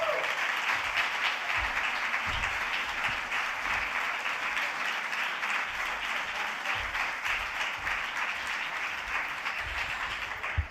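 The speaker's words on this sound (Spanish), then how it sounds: "Yo creo que Beatriz Carvajal se merece también un gran aplauso." Theatre audience applauding actress Beatriz Carvajal at a tribute to Antonio Buero Vallejo; dense, steady clapping from a large crowd fills the hall for about ten seconds without a break.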